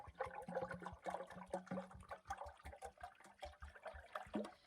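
A gallon of water poured into a GoSun Fusion solar oven's cooking tube, a close, steady splashing and gurgling pour that runs for several seconds with uneven surges.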